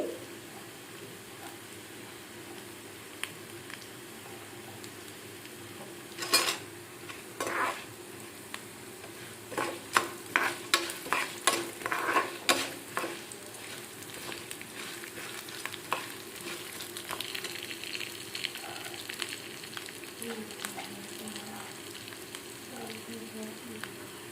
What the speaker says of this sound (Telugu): ఇవి బాగా వేగేటప్పుడు అల్లం పచ్చిమిర్చి వేసుకోవాలి